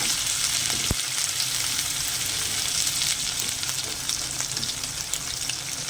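Whole cumin seeds crackle in hot oil in a pan, a loud, dense and steady sizzle that runs throughout, with one sharp knock near the start.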